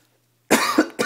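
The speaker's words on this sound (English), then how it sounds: "I'm sorry, I have a cough." A single person coughs close to the microphone, two or three harsh bursts in quick succession after a moment of silence.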